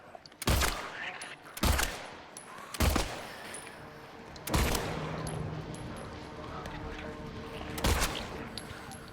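Loud single gunshots from the video game Silent Hill 2 go off about five times at irregular intervals, each a sharp crack with a short ringing tail, over low ambient drone.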